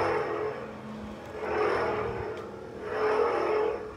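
KSith's The Senate lightsaber, with its deep, throaty hum, is swung aggressively twice in a row, each swing a rising and falling whoosh over the steady buzzing drone.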